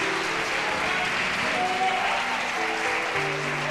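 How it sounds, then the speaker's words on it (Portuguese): A church congregation applauds steadily, a dense wash of clapping with faint tones and voices underneath. "Então dê uma salva de palmas recheado com glória a Deus."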